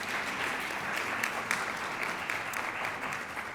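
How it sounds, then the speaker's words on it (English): Audience applause at a Columbus Metropolitan Club forum on the 2023 election, a steady even wash of clapping held at moderate level for several seconds, somewhat distant and roomy. "Now there's applause."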